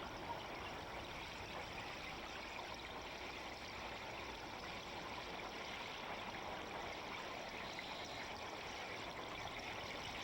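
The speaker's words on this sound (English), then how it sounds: "The ear-splitting sound of gaseous emissions and enormous columns of bubbles gives people the thrilling sensation that the volcano is about to erupt." An underwater volcanic vent releases gas in enormous columns of bubbles, heard as a steady, dense rushing and bubbling wash that holds even and unbroken throughout, with no voices over it.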